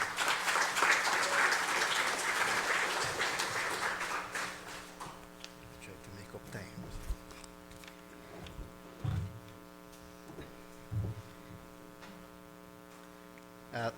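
A forum audience applauds presenter Pablo Miss of the Maya Leaders Alliance at an Indigenous People's Resistance Day event, a dense clapping wash for about five seconds that fades into a steady hum with scattered taps.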